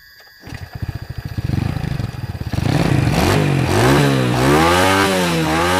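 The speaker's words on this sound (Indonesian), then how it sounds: "Sekarang kita coba geber motornya ya" A motorcycle engine with a freshly cleaned carburetor starts and revs repeatedly, clattering idle rising into loud, close, wavering throttle blips with no talk.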